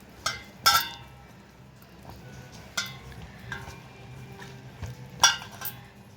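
A spoon works thick potato bajji batter around a bowl, giving soft wet stirring under several sharp metallic clinks against the rim, spaced irregularly and heard up close.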